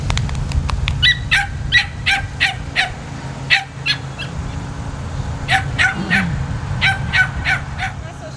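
A puppy at an animal shelter barks and yips repeatedly in sharp bursts, fairly close, over a steady low background hum.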